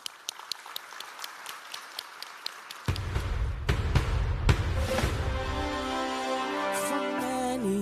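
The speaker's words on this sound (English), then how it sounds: "Let's give her a round of applause." An audience at a CARICOM heads of government conference opening ceremony applauds, starting with scattered claps that swell into dense, sustained applause before music begins underneath.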